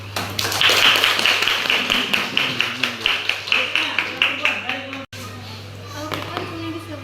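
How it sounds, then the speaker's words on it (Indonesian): A Madrasah Aliyah tenth-grade class claps hands together in a quick, steady rhythm of sharp claps with children's voices mixed in. After an abrupt break, softer scattered sounds follow. "Baik, tepuk tangan dulu."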